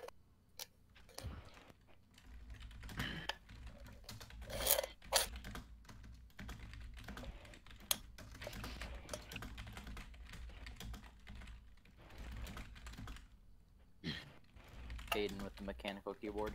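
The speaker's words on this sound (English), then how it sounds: "with the mechanical keyboard" Clacky keystrokes from a mechanical computer keyboard run on and off throughout, sitting close and moderately loud beneath intermittent talk from people in the room.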